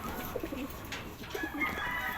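A racing pigeon coos inside a loft, with soft repeated coos in two short bursts over a faint, steady room background.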